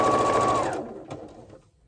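A sewing machine stitches chevron quilt pieces in a fast, loud whirring run that slows and stops partway, followed by a few faint clicks of handling.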